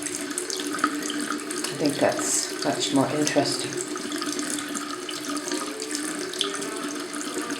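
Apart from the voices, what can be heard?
water running from a tap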